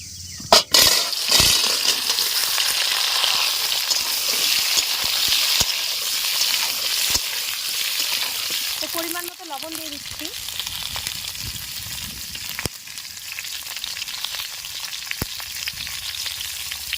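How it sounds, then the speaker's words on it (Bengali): Peeled potatoes frying in a pan with cumin seeds and turmeric give off a loud, continuous hiss of hot oil, with a few sharp clinks of a utensil against the pan and a brief tonal squeak near the middle. "হলুদ তো এখন একটু আমি ভালো করে ভেজে নেব"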